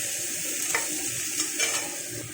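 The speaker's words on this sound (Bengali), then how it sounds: "পেঁয়াজটাকে হালকা করে নাড়াচাড়া করে নিলাম। কাঁচা ভাবটা চলে যাবে, সেই অবস্থায় ভেজে নেব একটু।" Onions fry lightly in oil while being stirred, a soft constant sizzle broken by three or four quick spoon scrapes against the pan.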